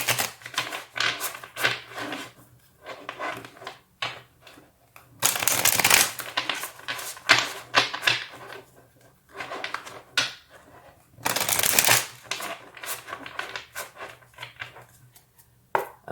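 Tarot cards are shuffled by hand, with two loud riffling bursts and lighter rustling and tapping of the deck in between, close and on their own.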